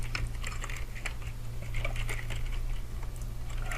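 Fingers type a command on a computer keyboard in a Kali Linux session, a quick irregular run of light plastic key clicks close by over a steady low electrical hum.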